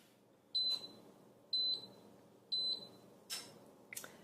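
A cooking timer on a Cuisinart GR-300WS Griddler Elite beeps clearly three times at a steady one-second rhythm, followed by a couple of softer clicks, in a quiet room.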